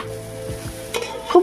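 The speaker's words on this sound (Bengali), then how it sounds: "দেখুন, আমি ভালো করে চালটাকে কিন্তু ভেজে নিচ্ছি।" Rice frying in a pan for basanti pulao, a soft sizzle with a spoon scraping and stirring through the grains, a couple of light clinks of metal near the end.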